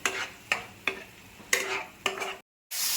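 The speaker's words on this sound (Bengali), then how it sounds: "মশলাগুলোকে কষাবো কিছুক্ষণ" Spices for Bengali motor ghugni are stirred and fried in a pan: five rhythmic spatula scrapes over a soft sizzle, a brief silence, then the sizzle returns.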